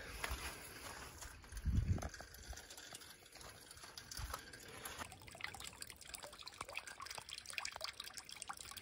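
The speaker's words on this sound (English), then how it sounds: "Water coming off the roofs." Meltwater trickling and dripping off roofs in a snowy yard on a January day, faint and distant, with scattered irregular drips and one louder splash early on.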